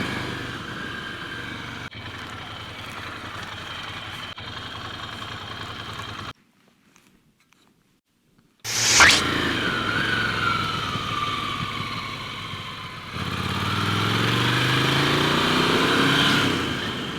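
A motorcycle idles at a roadside pause on a winding mountain road, then a van approaches and passes with a rising, then falling engine sweep, followed by a steady engine drone.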